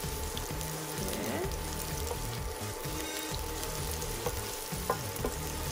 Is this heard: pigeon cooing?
no